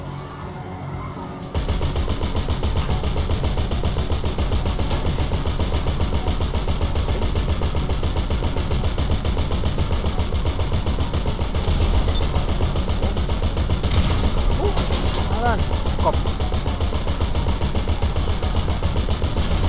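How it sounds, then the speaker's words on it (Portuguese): Dense, continuous bursts of gunfire and explosions in GTA V Online during a five-star police chase, loud and chaotic, filling the whole stretch after a brief quiet opening. "Ai, tô tomando tiro."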